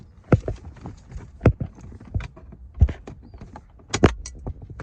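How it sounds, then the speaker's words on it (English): Sharp plastic clicks and snaps from prying a dashboard trim panel near the ignition of a 1998 Corvette, several distinct pops spaced irregularly over a few seconds, close and fairly loud. "then you will pry open this panel right here to reveal a Torx screw"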